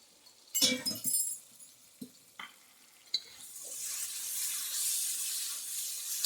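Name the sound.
adding a little water to ground spice paste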